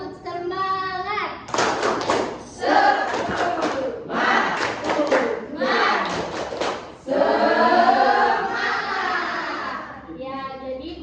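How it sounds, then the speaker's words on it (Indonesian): Elementary school pupils in a social studies class clap in patterned rhythmic bursts between sung chant lines, with several groups of quick claps in unison separated by children's singing voices. "Kalau kau semangat belajar tepuk tangan."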